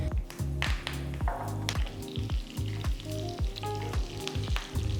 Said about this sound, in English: Once the mustard crackles